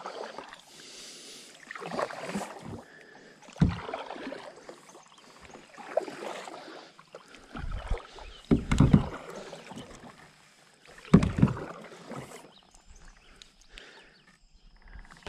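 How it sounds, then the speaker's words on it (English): Someone paddles an Old Town Topwater 120 kayak on open water. Paddle strokes make irregular, fairly close splashes and dips, with quiet gaps between them. "Paddling is super easy too."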